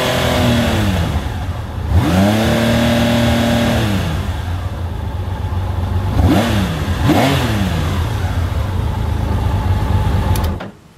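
A 1981 Honda CBX motorcycle engine runs loud and near at a steady, smooth idle, with three sharp revs that rise and fall before it cuts off at the end; no talking.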